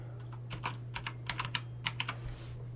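Someone types IUSR on a computer keyboard, producing a short run of light, close key taps with uneven spacing over a faint steady background hum.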